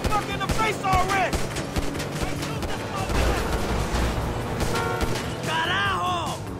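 Gunfire in GTA 5, rapid bursts of shots crackling in quick succession across the whole stretch, loud and close, mixed with shouting voices and short rising whistle-like tones.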